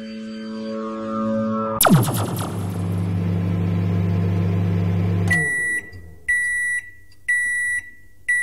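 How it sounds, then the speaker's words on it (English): Microwave oven in a Minecraft map, heating a burrito, hums steadily after a click and whoosh, then stops and gives a series of four evenly spaced sharp beeps, alone with no talking. "Your burrito is ready. Please remove burrito from microwave."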